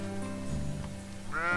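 A sheep bleats in the farming game Littlewood, one wavering, nasal bleat rising at the end, close and clear over a soft musical background.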